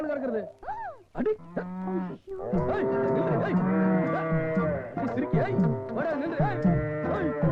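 Cow mooing repeatedly in a rural Tamil setting, loud and close, with long drawn-out calls overlapping one another and some voices mixed in.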